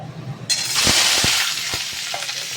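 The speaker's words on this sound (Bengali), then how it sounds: "ফোড়নটা দেওয়ার সঙ্গে সঙ্গে না আমি খুন্তি দিয়ে একটু চেপে দেবো, তাহলে না এই সারা গায়ে পুরো সর্ষেটা ফুটবে" Mustard and fenugreek seeds hit hot oil in a kadai, bursting into a loud, bright sizzle that spreads and then settles into steady crackling, with a few knocks of a spatula pressing them down.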